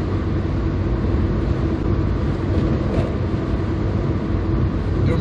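A 1992 Kia Pride 1.3 LX cruising at about 70 mph, giving a steady, dense road and engine rumble with vibration and no breaks, heard from inside the car.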